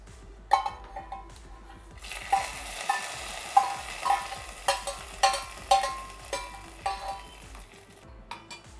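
Hot chilli and curry leaf tempering poured into cucumber pachadi for an Onam sadhya, a sizzle followed by a run of light metallic clinks and scrapes of a utensil against the pan, fairly quiet with no talk.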